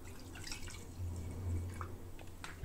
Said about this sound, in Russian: Наливаем в баночку бензин